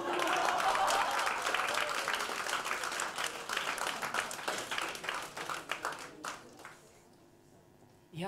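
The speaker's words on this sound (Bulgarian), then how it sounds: "моля наистина за бурни аплодисменти за прекрасните Дедо Мони и Кака Славена" An audience at a novel's book premiere applauds the performers, loud dense clapping that thins out toward the end, with a voice briefly heard under it before it fades to near quiet.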